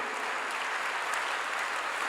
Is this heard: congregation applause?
yes